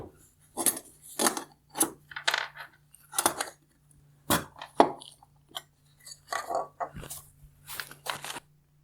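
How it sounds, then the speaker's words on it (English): Screws are taken out of the cutoff shield of a 2019-2022 Nissan Altima OEM LED headlight, with a string of close, crisp metallic clicks, rattles and taps in short bursts and gaps between. "then I will remove the 2 screws holding the cutoff shield in place"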